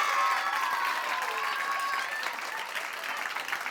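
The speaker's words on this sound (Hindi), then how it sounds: "लिए भी तालियां बजा दो जरा।" A crowd at an Eid special charity program bursts into steady, dense applause, loud and continuous throughout with a faint cheering undertone, slowly easing slightly in the second half.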